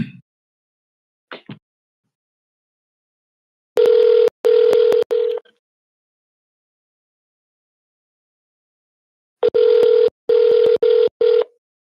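An outgoing telephone call rings out while waiting for someone to answer: two bursts of ringback tone separated by a long silence, clear and close, with a few faint clicks beforehand and no talking.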